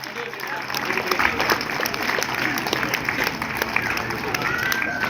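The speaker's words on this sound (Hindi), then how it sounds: "तो इसलिए भाई तालियां बजती रहनी चाहिए।" A crowd claps steadily, dense overlapping applause holding at an even level throughout, with voices mixed faintly underneath.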